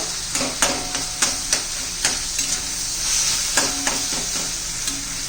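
Mashed eggplant stirred into peas in a sizzling pan for a spicy Maharashtrian bharit: steady frying hiss under regular scraping strokes of a spoon against the pan, close-up, with no speech.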